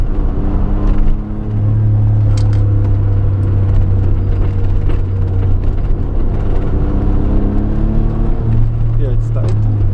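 A 1992 Suzuki Cappuccino drives down Mt. Rokko, its small engine droning steadily from inside the cabin with a low hum and occasional rises in pitch, while people talk over it throughout.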